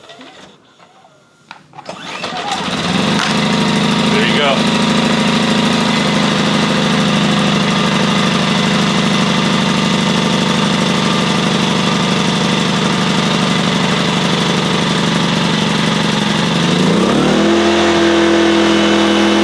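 A small Powerhorse 2500i gas generator catches after a brief pull and settles into a loud, steady running drone, shifting pitch near the end; a voice speaks briefly.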